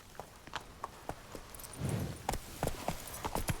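Quiet, irregular hoof clops from Roach, a horse in The Witcher 3, landing as scattered thuds beneath faint game ambience with a brief rush of noise midway.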